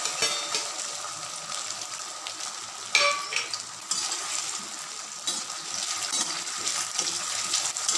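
Taro root pieces dropped into hot oil for frying crackle and sizzle with a dense, continuous hiss and a brief clatter near the start of the third second. The sound stays close and loud, with no voices.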